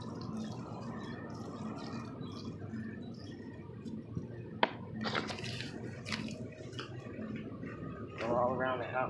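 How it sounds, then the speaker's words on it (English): A spray bottle of diluted soap and water is squirted over the outside of a central air conditioner unit, giving a steady wet hiss with dripping and splashing, and brief sharp squirts near the middle, while someone talks. "And I'm going to squirt it all over this to try to get it clean."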